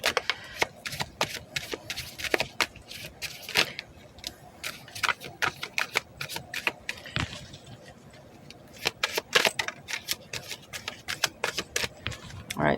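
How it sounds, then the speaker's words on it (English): Tarot cards being shuffled by hand, a busy stream of crisp riffling clicks and flicks in irregular bursts, close and moderately loud, with brief quieter gaps between runs. "I'm going to pull some cards for Divine Masculine"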